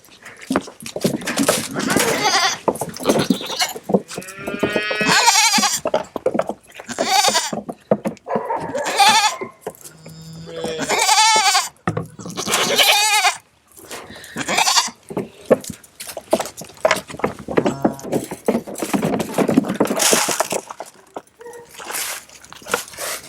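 Goats bleat repeatedly at feeding time on a homestead, loud overlapping cries from several animals close by, mixed with sloshing and splashing sounds.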